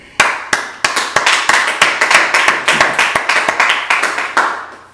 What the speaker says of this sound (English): All right, man, let's clap it up